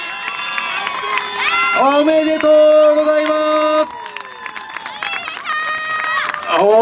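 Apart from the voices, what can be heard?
crowd cheering and applauding at a trial motorcycle awards ceremony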